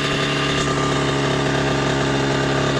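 A 1988 Kawasaki KX80 motocross bike, run again after fifteen years stored in a barn, idles with a steady, loud two-stroke buzz at close range and no voices.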